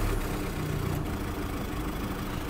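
A car engine idles steadily in neutral with a low, continuous rumble and faint vibration, running alone without talk.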